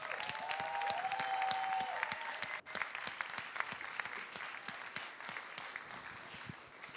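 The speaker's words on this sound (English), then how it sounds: "please, a last round of applause" An audience at master's degree presentation sessions gives a final round of applause, many hands clapping steadily at moderate distance, with a brief tonal sound near the start and the clapping thinning out gradually.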